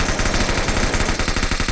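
Rapid automatic gunfire in a video game, a loud continuous burst of evenly spaced shots filling the whole stretch with no pauses.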